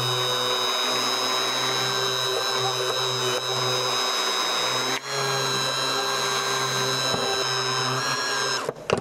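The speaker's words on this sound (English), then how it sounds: "I'm just going to go ahead and continue mixing and make sure that it mixes uniform." A small electric mixer runs steadily to blend a hyaluronic acid lip serum, giving a continuous tonal motor whine with a brief dip midway. The sound is close and sustained, with a rattle at the very end.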